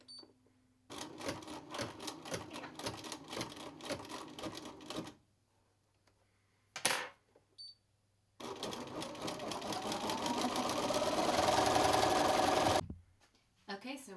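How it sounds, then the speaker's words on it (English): Embroidery machine satin stitching around the outside edge of a patch: a rapid needle clatter that runs in a burst, pauses, and then resumes for a longer, steady and fairly loud spell before it stops. "we're ready to start the next round of stitching"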